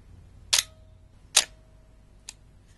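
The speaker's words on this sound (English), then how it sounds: "when I wound on again, the wind on lever now moved, and when I fired the shutter" An Olympus OM10 film camera gives two sharp, crisp mechanical snaps of the wind-on lever and shutter about a second apart, close and clear, then a softer third click.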